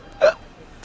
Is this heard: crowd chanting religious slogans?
no